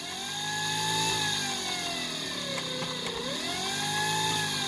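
A Razor Pocket Mod scooter's electric motor whines loudly and steadily as the twist throttle is worked, its pitch dipping and then climbing again, close and with no voices.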